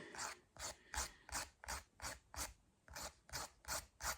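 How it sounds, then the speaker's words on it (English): A fingernail being filed across and up from the bottom to the top, giving about a dozen short, evenly spaced rasping strokes, close and fairly quiet, with no voices. "you contour the nail by filing across and up from the bottom to the top"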